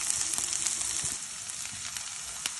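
Carrots and beans frying in a pan with onion, curry leaves, green chilli and spices, a steady bright sizzle running throughout with a few soft stirring knocks, close and continuous.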